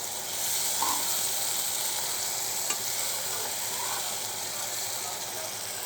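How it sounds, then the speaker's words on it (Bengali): Masala being fried down in a pan before small fish are added hisses in a steady, close sizzle, with faint stirring movements and a single brief clink of the utensil partway through. "মোটামুটি কষানো হয়ে গেছে। দেখা যাক কি অবস্থা হয়। আর একটু নেড়ে চেড়ে দেই।"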